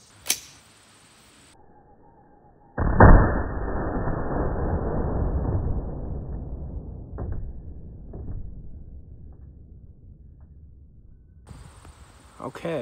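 A single loud, close rifle shot from a .223 firing a Speer 55 grain soft point bullet into a soft target, followed by a long decaying rumble and a few faint knocks.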